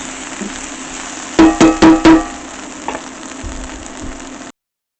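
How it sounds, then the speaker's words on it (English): A chicken of the woods mushroom, cooking with raisins in a vegan coronation dish, sizzles steadily in a frying pan while four quick, close scraping stirs sound in rapid succession, followed by a few softer knocks, with no talking. "Just going to give that a quick stir."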